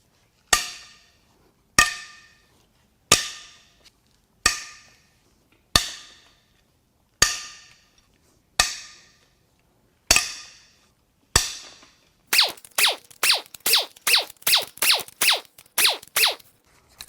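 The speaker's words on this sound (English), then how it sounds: "And now it's time to crack the real head bolts loose." Head bolts on a Fiat 500 1.4 MultiAir engine break loose with sharp metallic cracks, eight evenly spaced single snaps followed by a fast run of rapid clicking ratchet-like bursts, close and loud with no talking.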